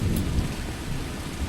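Steady rain pours down with a low rumble of thunder in the game Vein, a dense continuous wash of sound with no voices.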